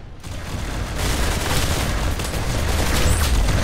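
Rapid gunfire in the Roblox game Arsenal rattles loud and dense, a continuous burst of overlapping shots that runs without a break and swells slightly toward the end.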